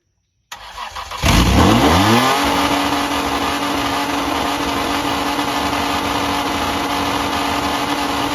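A Toyota T100 engine is tested after a manifold patch: after a moment of silence it cranks, catches and revs up with a falling whine, then settles into a loud, steady idle.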